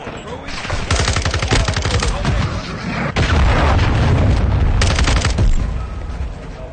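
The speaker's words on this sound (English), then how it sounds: "Hostile cruise missile launched." Cruise missile strike and heavy gunfire in Call of Duty Warzone 2, with loud, dense bursts of shots and booming blasts running nearly nonstop, a sharp impact around midway, and continuous rumble beneath.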